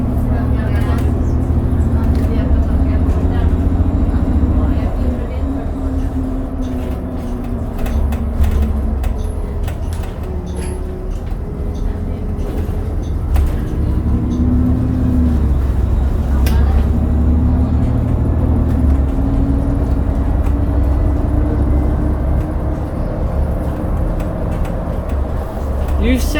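Interior of a 2019 Nova Bus CNG city bus on route 82 to Nolan Hill, with a steady loud low engine drone and road rumble throughout, rattles and shifting tones as it moves, and people talking over it.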